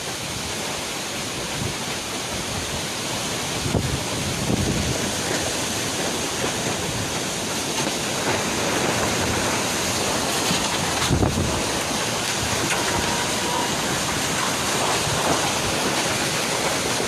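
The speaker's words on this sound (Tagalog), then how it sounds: "Namumuti na po ang dagat." Rough sea under Typhoon Ulysses on Catanduanes under Signal No. 3 roars continuously, breaking surf blending with gusting wind buffeting the microphone in a loud, steady wash with occasional swells and no voices.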